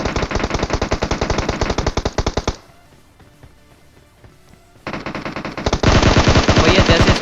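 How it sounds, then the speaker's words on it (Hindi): Rapid automatic gunfire pounds out in a solo-versus-squad battle royale shooter game: a long loud burst, a quieter pause of a couple of seconds, then another sustained volley, close and continuous without talk. "अब मैं इधर जैसे ही आया तो मुझे यहाँ से फायर आता है"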